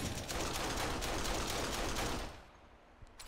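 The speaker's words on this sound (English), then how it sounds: "I'm shooting a shotgun and the pistol." Shotgun and pistol fire in the PSVR horror shooter Kill X, a dense burst of rapid overlapping shots that drops off abruptly into quiet near the end.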